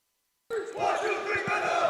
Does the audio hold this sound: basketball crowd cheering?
yes